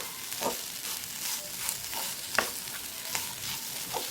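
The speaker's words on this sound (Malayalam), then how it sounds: "നന്നായിട്ടൊന്ന് മിക്സാക്കി കൊടുക്കാം." A spatula stirring a dish frying in a pan, with irregular scraping strokes over a soft sizzle, close and moderately loud.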